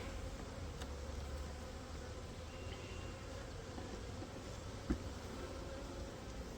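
Honey bees from two packages crowd an open hive, a dense, steady close-up buzz that holds evenly throughout with one brief knock partway in, no voices.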